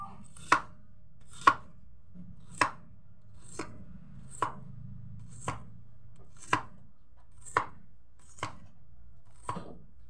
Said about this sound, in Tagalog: Hiwain na natin ng pino.